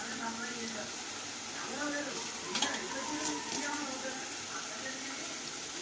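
Sliced onions and green chillies fry in oil with a soft, continuous sizzle and light stirring scrapes, fairly faint and close, with a voice talking over it.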